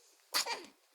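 A baby's single short sneeze, soft and close, a breathy burst trailing into a brief vocal wheeze in an otherwise quiet room.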